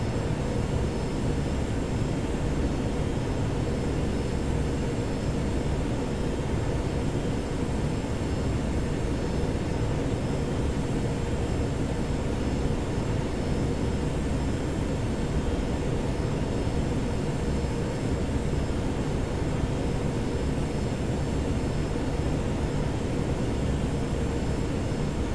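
A Boeing 757-200F takes off on runway 24 left at Toronto in the Prepar3D simulator, its engines roaring as a loud, steady, broadband rumble that holds unchanged for the full stretch.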